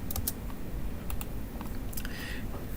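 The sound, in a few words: pressing spacebar and clicking in SolidWorks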